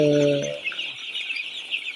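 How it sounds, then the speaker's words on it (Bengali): Sonali breed chickens clucking and chirping close by at a poultry farm, a short harmonic squawk at the start followed by steady high chatter from the flock, no talking. "মুরগি"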